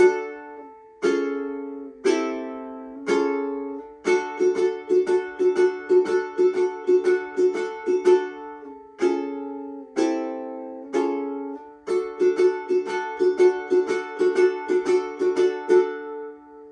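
A ukulele plays the intro chord progression of a song, opening with single strummed chords, then settling into a steady rhythmic strum; clear, close, and without voices.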